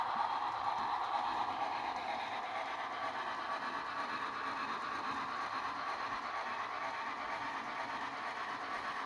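Broadway 280 model steam locomotive running along a model railroad layout with a trestle, giving a steady, continuous mechanical rumble and rolling hum throughout, with no talking.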